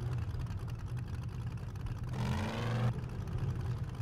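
Vehicle engine humming steadily while driving in the zombie survival game 7 Days to Die, with a brighter whirring rise for about a second midway before settling back to a low drone.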